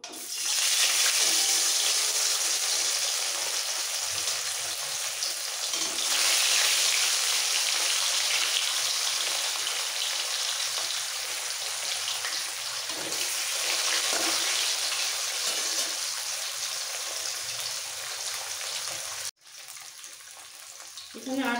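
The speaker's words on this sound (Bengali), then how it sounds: "এবার একে একে মাছগুলো ছেড়ে দিচ্ছি ভাজার জন্য।" Pieces of barramundi (vetki) fish frying in hot oil give a steady, close hissing sizzle that runs on continuously, with brief shifts as pieces go in and a sudden drop near the end.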